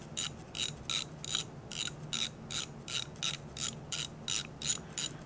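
A screw on an industrial electric motor being unscrewed, a rapid, even run of about a dozen sharp ratcheting clicks, close and clear, with no talking.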